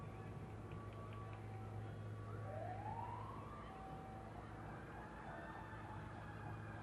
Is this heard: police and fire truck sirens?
yes